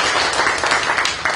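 Audience at a humanities book concert applauds the chairman with loud, dense, continuous clapping close by that fills the whole moment.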